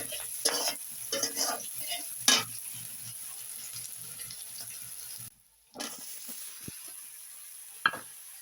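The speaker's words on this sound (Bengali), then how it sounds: "এখন পেঁয়াজ আর কাঁচামরিচ হালকা ভাজি করে নিতেছি" Onion and green chili fry lightly in a pan after the fish, a steady close sizzle broken by utensil stirring and scraping, with one brief drop to near silence partway through.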